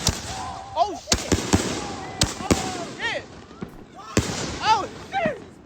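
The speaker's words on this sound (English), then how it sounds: "how much were those fireworks?" Consumer fireworks burst in a run of sharp, loud cracks, mixed with rising and falling whistles from the shells, while excited voices shout nearby.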